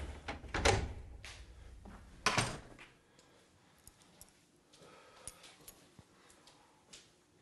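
A door is handled indoors: two sharp knocks or thuds early on, then quieter clicks and small taps of a latch or handle afterward.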